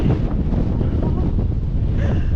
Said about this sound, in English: So you can see like the wind is just really blowing so hard behind.